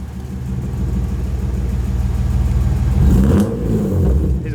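A Lexus IS300 fitted with an HKS Carbon Ti exhaust and headers idles with a deep, steady rumble, then revs up loudly near the end with a brief burst of crackle before settling back.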